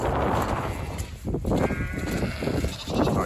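A farm pen holding about a hundred ewes and two hundred lambs, with many overlapping bleats and baas of different pitches from close and farther off, a steady dense chorus throughout.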